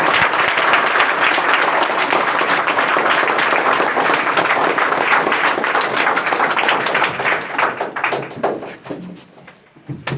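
An Independence Day speech audience gives loud, sustained applause welcoming the speaker, dense clapping from a large crowd that thins out toward the end.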